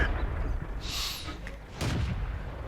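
An M4A3E2 medium tank's main gun fires in World of Tanks: a couple of loud, booming cannon blasts that stand out over constant engine and battlefield rumble.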